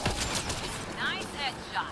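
Gunfire in the sci-fi shooter game Mass Effect: Andromeda: rapid bursts of shots mixed with sharp whining energy sounds and mechanical clatter, loud and close, in an ongoing firefight.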